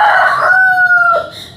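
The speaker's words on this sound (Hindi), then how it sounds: "ऑस्ट्रेलोप हेरिटेज का मुर्गा साथ छोड़ा हुआ है" An Australorp heritage rooster crows once, loud and close, in a single drawn-out call that falls away at the end, with no talking around it.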